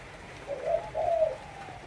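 A dove coos twice in a row, soft rounded calls from a caged songbird kept among other birds, moderately close over a quiet background hiss.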